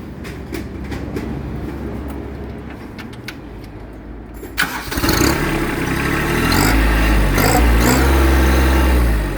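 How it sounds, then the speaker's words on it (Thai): Kubota B2440 tractor engine, a 2016 machine with cane guard frame and rotary tiller, cranking and catching before settling into a loud, steady close-up diesel idle with deep low rumble. "ฟังเสียงเครื่องยนต์กัน ครับ"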